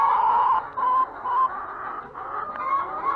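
Several hens cluck softly and steadily inside a coop while waiting to lay eggs, the calls overlapping at close range with no voices.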